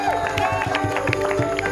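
An audience claps and cheers for a guest at an Indonesian talk show, a brief dense patter of applause with shouts mixed in, close and steady throughout.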